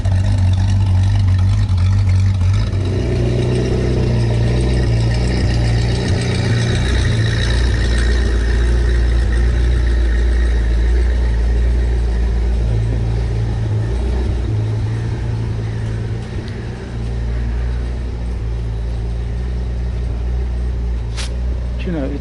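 A 1200hp Zenvo hypercar engine running loud and close with a deep, throbbing rumble, rising in a strong rev early on and then settling, with people talking over it throughout.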